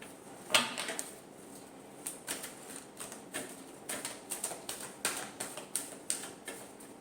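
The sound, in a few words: tarot cards being shuffled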